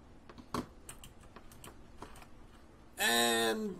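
A cat walking across a computer keyboard, pressing keys: scattered irregular clicks and taps near the mic, then a sudden loud sustained tonal burst at the end.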